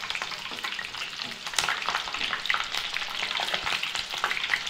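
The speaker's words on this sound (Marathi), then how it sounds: "आता हे 4-5 मिरच्या तळून घेऊ आपण" A handful of green chillies fry in hot oil with a continuous close crackle and fizz, dense popping throughout with light stirring movements, no voices.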